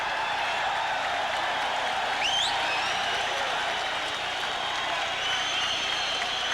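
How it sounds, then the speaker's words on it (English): A boxing arena crowd applauds champion Daniel Zaragoza after a bout with Paul Banke, steady distant clapping and crowd murmur filling the whole stretch. "over to the corner now as the crowd applauds Zaragoza"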